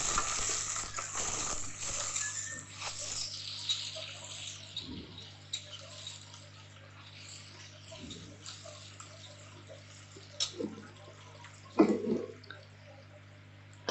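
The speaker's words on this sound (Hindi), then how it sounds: "अब इनको हम अच्छे से फ्राई करेंगे।" Ingredients for veg pulao frying in a pan, with a soft continuous sizzle and occasional stirring scrapes and clinks over about fourteen seconds.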